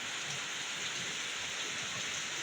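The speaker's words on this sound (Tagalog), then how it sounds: "Malakas ang ulan" Heavy rain pours down in a dense, constant roar with a low rumble underneath, loud and unbroken.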